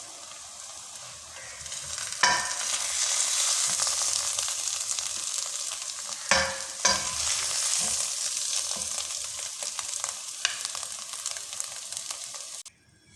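Sarson ka saag with melted cheese is scooped out of a hot pan on a just-switched-off stove, with a steady sizzle and a few sharp spoon scrapes and clinks against the metal, close and fairly loud.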